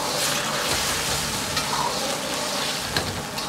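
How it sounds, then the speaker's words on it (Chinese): Drained fish slices go into seasoned broth boiling in a pan, producing a steady, close bubbling and sizzling hiss with faint stirring movements throughout. "汤汁烧开后下入控干水分的鱼片"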